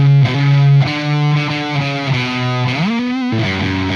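Electric guitar played through a GP-180 amp modeler with distortion, a loud sustained note followed by a run of held, gliding notes with a bend near the end, alone without talk.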